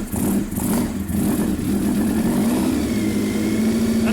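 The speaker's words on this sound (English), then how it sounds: "And there we go, a running motorbike-ish." A Honda RVF400 motorcycle engine fires up on brake cleaner and runs unevenly, with a steady low drone and a few revs, close and loud throughout.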